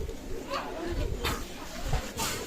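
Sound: Kasuri pigeon cooing

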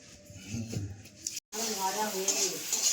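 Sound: food frying in a pan

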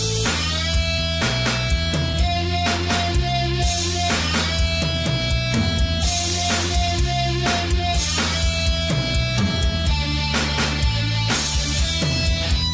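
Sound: drums, guitar and bass playing together

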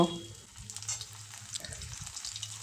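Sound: cauliflower frying in hot oil in a wok

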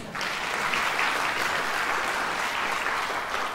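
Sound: audience applause at handbell choir concert

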